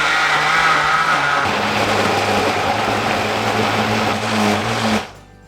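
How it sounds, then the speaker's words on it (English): A blender whirs loudly and steadily for about five seconds, its pitch shifting as roughly chopped vegetables, a stock cube and a little water break down, then cuts off abruptly. "We just need to roughly chop the veg and put all of the ingredients into a blender."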